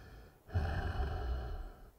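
Heavy breathing inside the killer's mask in the horror film Halloween II (2009), a single long, hollow, close inhalation that rises suddenly and holds steady.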